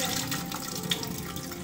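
Bombay duck fish pieces rinsed under running water, a steady close splashing and pouring from a tap into a sink that continues evenly throughout, with no voices.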